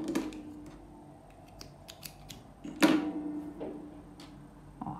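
Scissors snip through crochet yarn with a few sharp, close metallic clicks, a quiet rustle of handling between cuts and one louder decisive snip near the middle.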